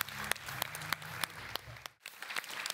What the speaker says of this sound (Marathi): जोरदार टाळ्या विद्याधर जोशी सरांसाठी